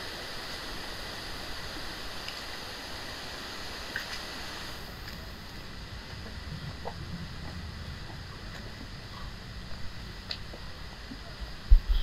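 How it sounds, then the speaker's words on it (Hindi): Steady broadband rush of a waterfall on the grounds of Wat Phra That Doi Suthep temple near Chiang Mai, Thailand, continuous and moderately loud, with faint scattered footsteps and small knocks nearby. "ये है झरना।"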